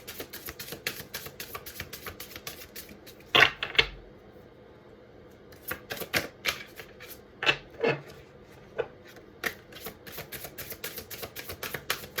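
Tarot cards being shuffled by hand during a reading, with a series of short, crisp riffling bursts and soft taps spread unevenly over a quiet background, close and fairly faint.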